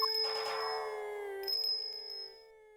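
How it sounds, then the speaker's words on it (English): Ringing bells heralding the blind butcher in Ace Attorney Investigations 2: bright sustained metallic tones, struck once and then again about a second and a half later, each fading out clearly with no talk. "His appearance was always announced by the sound of bells."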